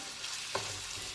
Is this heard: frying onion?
yes